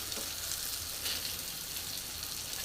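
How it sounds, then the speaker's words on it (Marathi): Surmai fish fries in a pan for a Konkani-style fish fry, a dense, even sizzling hiss that stays close and steady for the whole short stretch, with no voices. "सुरमईला वेळ नाही लागत पटकन अशी फ्राय होते छान असे फ्राय झाले"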